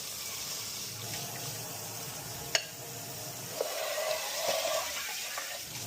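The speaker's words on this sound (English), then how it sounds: "All you need to do is rinse it, stick it in the rack to dry" An egg pod is rinsed under a running kitchen tap over a sink, with a steady stream of water splashing close by, a sharp knock partway through, and a brief gurgle of filling water.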